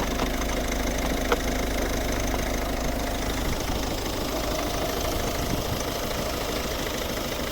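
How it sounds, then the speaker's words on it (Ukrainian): A 2009 Volvo V50 1.6 HDi diesel engine idle hums evenly and quietly throughout, with a low constant rumble and faint mechanical ticking, no voices. "Ідеально рівно тихо типу, працює мотор."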